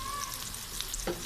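Cumin and coriander mix sizzles in hot oil in a pan while cooking a rui fish curry with potato and beans, a soft steady crackle with a brief stir near the end.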